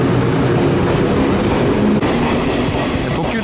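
A limited express train in Izu, Japan, rushes past close by with a loud, continuous rumbling roar and rattling wheels, a brief shift midway as cars go by.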